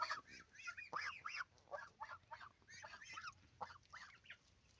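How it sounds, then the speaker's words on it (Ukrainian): A group of young geese honk and call repeatedly in short, overlapping bursts, close and fairly soft, with no talking. "Ось такі наші гусенята."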